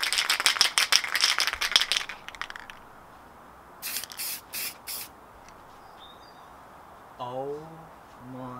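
Pink spray paint hisses from an aerosol can onto a brake caliper in several quick bursts, starting with a rapid series of short sprays and then three or four separate puffs. A voice speaks briefly near the end.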